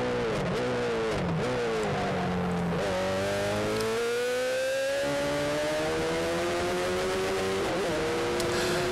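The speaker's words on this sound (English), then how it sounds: "You can hear the other engine very close by." Sevens race cars at Kirkistown brake and downshift into a hairpin, engines rising and falling in pitch as two cars run close together, one engine note sweeping up loudly while the other follows nearby.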